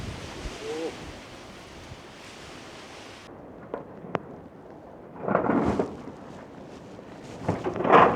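Strong wind buffets the microphone on the Irish coast, with surf crashing in swells that rise and fall, loud and rough with no clear talk.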